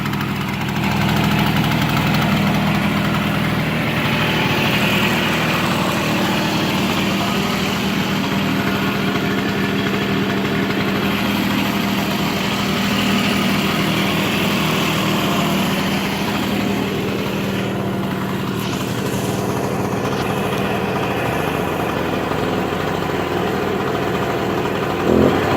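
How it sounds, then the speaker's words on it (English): An engine idling steadily for the whole stretch, a loud, even rumble with a constant low hum and slight vibration, running smoothly without revving. "Yeah, the engine's in pretty good shape."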